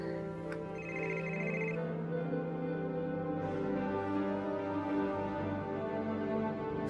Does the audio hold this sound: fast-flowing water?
no